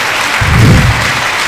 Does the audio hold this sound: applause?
yes